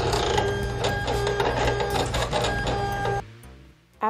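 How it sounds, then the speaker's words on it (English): A vinyl cutting machine cuts a design into Craftables etched vinyl with a steady, busy mechanical whir and rapid stepping ticks. It runs close and continuous for about three seconds, then stops, leaving quiet. "After your machine is done cutting out the design"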